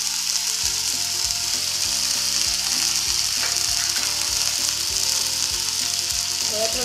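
Chicken shashlik sizzles and fries steadily over an open flame, a loud continuous crackling hiss lasting throughout with no talking.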